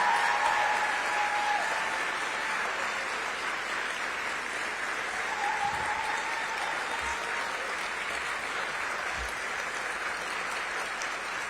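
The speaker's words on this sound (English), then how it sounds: "please give them all a huge round of applause." Audience applause for the 20 Under 40 class of 2022 in Toledo, sustained loud clapping from a large crowd that stays dense and even, easing only slightly toward the end.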